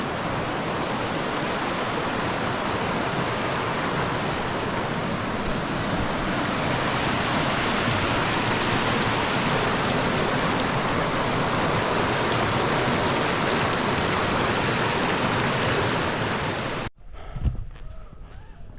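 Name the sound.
little creek flowing on a Cascade Mountain hike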